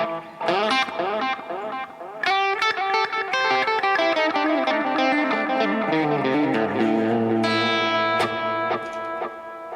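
A Fender Telecaster Ultra electric guitar is played through delay and reverb, with plucked notes and chords ringing into repeating echoes and a long wash of sustain, loud and close with no talk.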